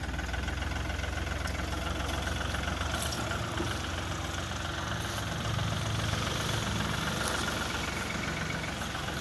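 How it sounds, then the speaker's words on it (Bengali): A 2020 Ashok Leyland Dost Plus truck's diesel engine idles nearby with a steady, knocking clatter, fairly quiet and unchanging throughout. "আপনারা শুনতে পাচ্ছেন ইঞ্জিনের সাউন্ডের কন্ডিশন।"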